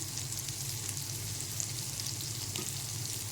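Ginger garlic paste frying in a pan with fish, a steady close sizzle and hiss running unbroken through the whole stretch, with no voices.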